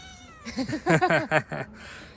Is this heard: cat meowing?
yes